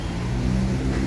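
A Harapan Jaya bus pulls away with a loud, close, low engine drone and rumble that holds steady for about a second.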